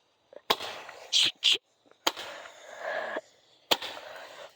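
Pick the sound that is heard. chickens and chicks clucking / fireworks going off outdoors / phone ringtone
fireworks going off outdoors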